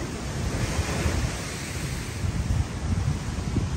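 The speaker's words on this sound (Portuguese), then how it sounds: "mar super agitado." Rough, churning sea surf at high tide on Guarujá beach in Brazil, a steady loud roar of breaking waves mixed with wind buffeting the microphone, no voices.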